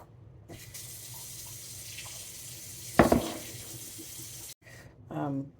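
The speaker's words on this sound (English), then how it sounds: "I went ahead and added the 4 cups of water in." Running water splashes briefly into a bowl holding chicken breast for brining, with faint background sounds before and a short voice-like sound near the end.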